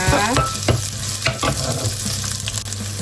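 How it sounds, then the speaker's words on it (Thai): Onion is stir-fried in a pan, its loud, steady sizzle broken by quick scraping strokes of the spatula, close up and alone without voices. "ขอผัดหอมหัวใหญ่ให้สุกก่อน"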